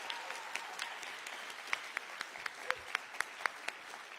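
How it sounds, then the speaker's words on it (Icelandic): Audience clapping at the final night of a music contest, a modest patter of claps with a few sharper louder hits standing out, fairly quiet overall. "Ef að gefa okkur til dæmis smá klapp."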